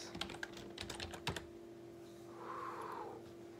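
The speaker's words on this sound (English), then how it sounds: "Type in my password." A password is typed on a computer keyboard in a quick burst of close, crisp key taps over about a second and a half, followed by quiet room hum.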